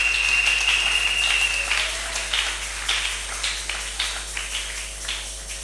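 A church congregation claps together during a Sunday worship service, a steady crackle of many hands that gradually thins into scattered, separate claps, with a brief high whistle-like tone near the start.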